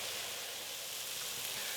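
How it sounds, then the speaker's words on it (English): Mushrooms sizzling in a pot as they cook, a steady, close, even hiss of frying that holds without pause. "You can really hear the mushrooms sizzling"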